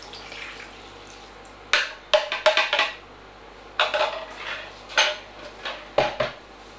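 Beef stock being stirred into a pot of minced beef pie filling, with spoon clinks and scrapes against the pot in short irregular bursts over quiet background, close by.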